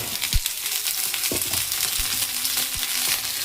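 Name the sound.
potato and eggplant frying with onions in pan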